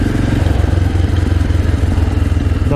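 A 30-year-old Honda AX1 250cc supermoto single runs steadily up close, a loud continuous low engine drone with a rapid pulsing throb and mechanical clatter, no talk over it.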